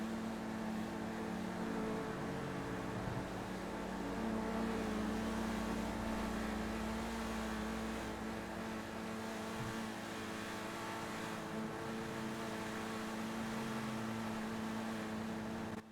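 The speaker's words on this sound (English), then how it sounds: "It's not a quiet engine." Car engine running in GTA V, a loud continuous drone with a steady low hum that swells and eases slightly, with no one talking over it.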